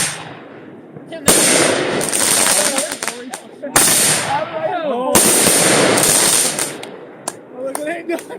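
Consumer fireworks going off at close range, loud crackling bursts and rapid popping barrages that spray out to the sides, with people talking over the noise.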